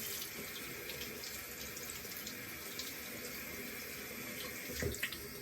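Tap water runs steadily into a sink to wet a Paragon synthetic shaving brush, a close, constant hiss and splash with a brief louder splash near the end and no talking.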